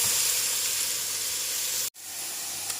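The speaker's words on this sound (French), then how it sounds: "les courgettes, on les fait bien revenir aussi" Courgettes frying in a pan for ratatouille niçoise give a loud, steady sizzle close by, broken by one brief gap before the hiss resumes.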